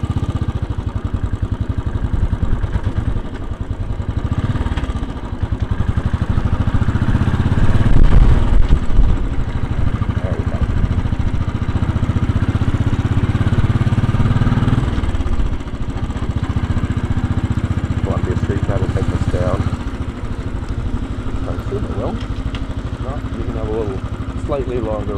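A 2010 Royal Enfield Bullet's single-cylinder engine thumps steadily and close up throughout a ride through Brooklyn toward Lower Manhattan, with city traffic around and a voice talking over it now and then.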